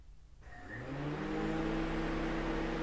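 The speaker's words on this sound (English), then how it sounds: "Is your radiator fan coming on?" A car's radiator fan switches on abruptly, rising from a quiet idle into a steady, close whirring hum with a faint tonal whine that holds to the end.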